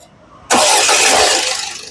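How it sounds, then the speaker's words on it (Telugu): A 2014 Ford EcoSport Titanium engine cranks and catches abruptly after a brief quiet moment, then settles into a loud steady running roar. "సింగిల్ సెల్ఫ్ లో కార్ స్టార్ట్ అయితే ఎటువంటి స్టార్టింగ్ ట్రబుల్ అయితే లేదు"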